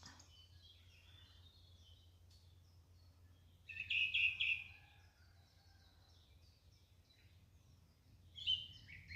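Birds sing in a May forest near a Kursk dacha, with short bright chirping phrases rising now and then over a quiet low hum, the loudest bursts near the middle and again near the end.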